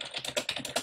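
Quick, close taps on a computer keyboard as a short word is typed: a rapid run of light plastic clicks, with nothing else audible.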